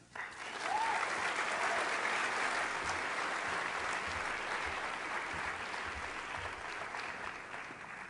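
Audience applause at a university school's finale ceremony welcoming a speaker, a dense sustained clapping from a crowd, swelling quickly and holding steady for several seconds.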